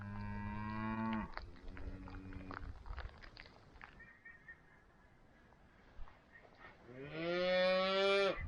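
Cattle on the pampa give long, loud, close moos at the start and again at the end, with quieter shuffling and footstep-like sounds between them.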